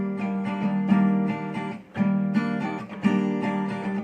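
Acoustic guitar strumming the verse chords of a pop song in a steady down-up pattern, with rhythmic muted strokes and chord changes roughly every second, played alone and close.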